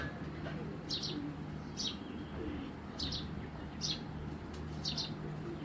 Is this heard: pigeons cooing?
yes